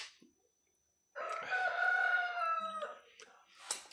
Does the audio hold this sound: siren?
no